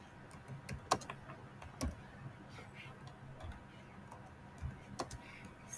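Scattered clicks of typing on a computer keyboard, faint and close, irregular taps with a few sharper keystrokes over a quiet room hum.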